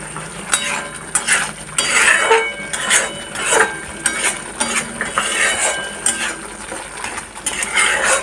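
Spice masala being stirred and fried in oil in a pot, with steady sizzling and repeated scraping and clinking of a metal spoon against the pan, close and continuous throughout.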